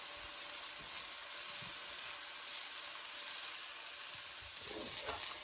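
A burger patty searing in a hot cast iron pan gives a steady, even sizzle close by, with a slight rise of crackle near the end and no talking.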